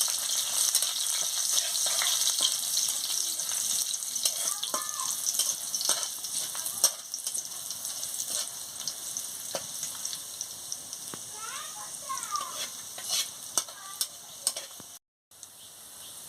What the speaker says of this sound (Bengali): রসুন বাটা দিয়ে দিচ্ছি, দিয়ে ভালো করে ভেজে নিচ্ছি।